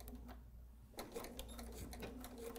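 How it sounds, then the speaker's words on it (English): A sewing machine runs in a short burst of a few stitches, starting after a near-silent second and whirring with a steady rapid tapping, close and moderately quiet. "I'm going to stitch just a few stitches."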